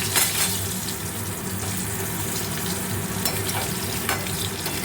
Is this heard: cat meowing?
no